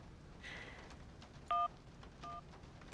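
An old-style phone is dialed in the video game Syberia: a soft rising tone, then two short, clean touch-tone beeps spaced apart, faint over quiet background hiss.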